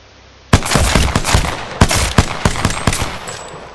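R-301 rifle firing in Apex Legends, a loud burst of rapid automatic shots with a quick, even rhythm, close and alone.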